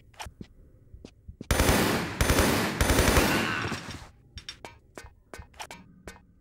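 A newly acquired automatic weapon firing in Tomb Raider 3: a sustained burst of rapid gunfire lasting a few seconds, loud and continuous, framed by scattered clicks and short game sounds before and after.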